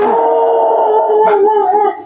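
Dogs howl up close in a drawn-out, wavering chorus lasting about two seconds, with no talking.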